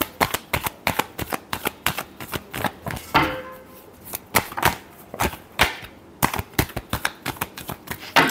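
Tarot cards are shuffled by hand in rapid, crisp riffling bursts, close and continuous, with brief pauses between rounds.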